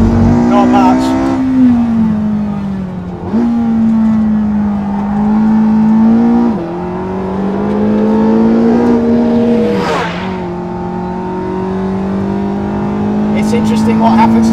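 A Porsche 918 Spyder engine on a race track holds a strong, steady drone that dips and climbs through short shifts and revs, close and loud.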